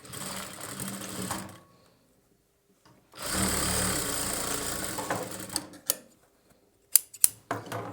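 A sewing machine stitches a boat neck blouse in rapid mechanical bursts, first a short run, then a long steady run after a pause, ending in a few sharp clicks and taps. No talking.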